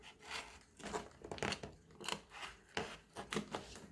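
A cardboard box being cut to build a rubber band car, with a quiet, close series of uneven snipping and crinkling bursts that come in irregular pulses.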